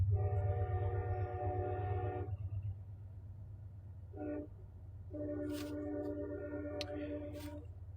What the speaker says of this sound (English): Train. I'm at the river, so let that thing fly by.